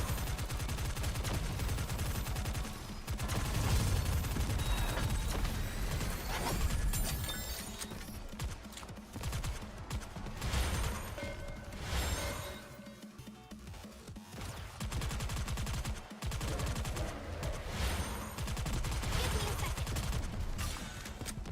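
Rapid, sustained gunfire from the mobile game Nikke rattles on in dense bursts with heavy low-end impact. It dips briefly midway, then resumes as continuous battle noise.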